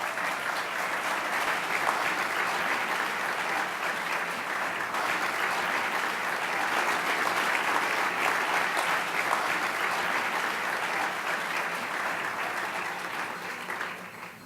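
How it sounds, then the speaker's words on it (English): A large crowd at an awards dinner applauds steadily for a long stretch, dense continuous clapping that stays loud before tapering slightly at the end. "please stand up and please give them a round of applause."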